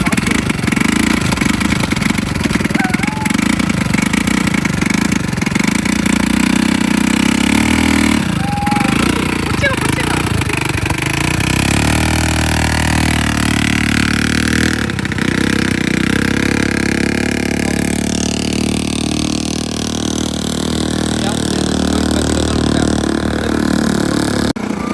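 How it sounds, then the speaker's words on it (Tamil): ATV engine running at a hilltop viewpoint in Yercaud, a loud continuous mechanical drone near by with shifting pitch and rattling, lasting throughout. "இந்த வியூ பாயிண்ட்லேயே பார்த்தீங்கன்னா ஏடிவி ரைடு இருக்குது."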